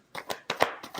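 Tarot cards shuffled in several quick riffling bursts, close and fairly soft, with short pauses between the shuffles.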